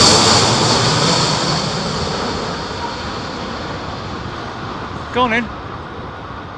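Airliner on final approach to land at Heathrow in storm winds, a steady engine roar with wind rush that slowly fades, while a brief voice speaks near the end.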